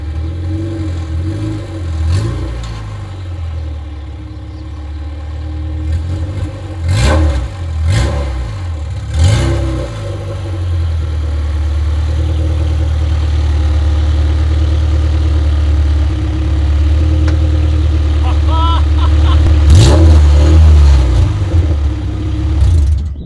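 A Honda Civic EG hatchback with a built LS VTEC engine idles nearby, blipped with several short revs early on before a steadier, louder engine drone builds as the car backs up and pulls forward.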